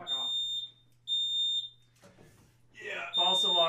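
Smoke detector false alarm sounding in repeated shrill high beeps, three short chirps then a longer tone, with voices talking and laughing in between and over the end.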